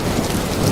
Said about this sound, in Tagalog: pero lalong lumakas ang bagyo